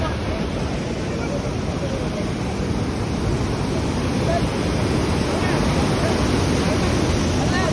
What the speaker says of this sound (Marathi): डॅमला एवढा खतरनाक पाण्याचा फवारा उडतो ना तो बघा